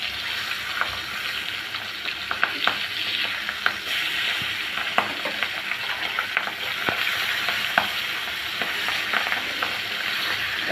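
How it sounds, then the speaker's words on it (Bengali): Pabda fish frying in oil in a pan and being turned one by one, a steady close sizzle with scattered sharp spits and pops throughout. "এখন উল্টে পাল্টে ভালো করে ভেজে নেব"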